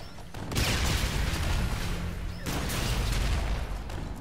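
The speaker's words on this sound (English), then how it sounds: "Where's this gunfire coming from" Dense gunfire crackles and booms continuously in the Call of Duty: Infinite Warfare video game, a loud barrage with bursts of heavy blasts and no clear pauses.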